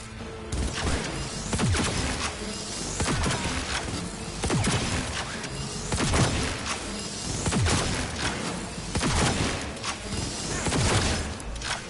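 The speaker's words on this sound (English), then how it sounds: "Me shooting a robot through a wall, so it can't shoot me back." Rapid gunfire in Cyberpunk 2077 as a robot is shot through a wall, dense bursts of shots repeating steadily for several seconds, loud and close with crashing impacts mixed in.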